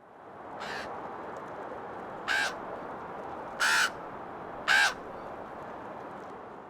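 Four hoarse raven croaks used as a stage sound effect, evenly spaced and fairly loud over a steady background hiss.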